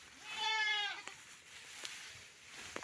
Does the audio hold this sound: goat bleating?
yes